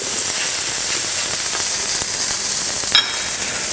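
Chicken sears in a hot frying pan for a Mongolian chicken dish, giving a loud, constant, crackling sizzle with scattered pops and one sharper clink near the end.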